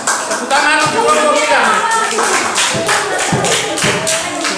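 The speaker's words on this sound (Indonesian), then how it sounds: "Tepuk tangan untuk kelompok" A classroom of students applauds a student group after its presentation, producing dense, loud, steady clapping that lasts the whole stretch, with voices mixed into the noise.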